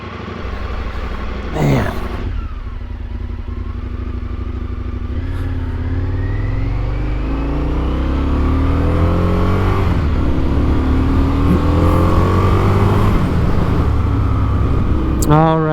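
A Ford GT sports car engine revs hard and sweeps past at a racetrack, rising and falling in loud overlapping pitch sweeps, with a man's brief spoken exclamation over it.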